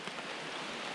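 Rain falls during a cold night trail race on the Issy Alps 100 course, a steady soft hiss of drops with no other sounds.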